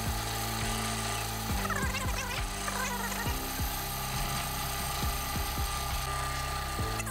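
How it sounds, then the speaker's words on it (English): An orbital sander works rust off a steel bench vice, giving a steady, loud mechanical whir that holds the whole time, with short pitch sweeps as the pressure shifts. "Just using a orbital sander just to remove some of that rust"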